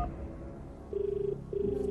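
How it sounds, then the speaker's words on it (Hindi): A telephone rings during a phone-a-friend lifeline call on the Kaun Banega Crorepati game show, two steady electronic ring bursts rising over a quiet studio hum. "सो प्लीज उनके लिए फोन लगा के दीजिए."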